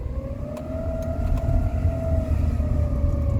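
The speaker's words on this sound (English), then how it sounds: "The gearbox does seem to be over-revving itself" Rover 45 Impression S3 with a CVT gearbox droning steadily while driving, a sustained high engine whine holding near-constant pitch as the gearbox over-revs, with road rumble underneath and no talk.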